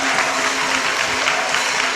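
A church congregation at the Patmos Dieudonné church in Côte d'Ivoire applauds in thanks to God. The clapping is loud, dense and steady, with a faint tonal hum running beneath it.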